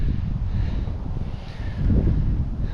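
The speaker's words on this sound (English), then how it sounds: "It's bloody windy." Heavy wind buffets the rider on a CFMoto 800MT adventure motorbike in hilly country. The rumble roars steadily and loudly, with no talk over it.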